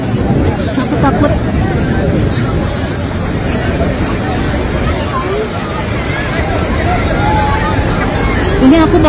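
A very strong storm wind roars and buffets loudly and without a break during a rainstorm in Mecca, with a babble of crowd voices underneath.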